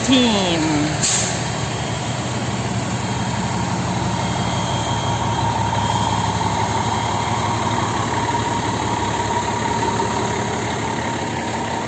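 A truck engine idles steadily outside a fire station, a continuous low rumble with a brief hiss early on, while people talk over it.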